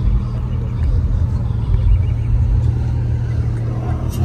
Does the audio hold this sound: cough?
no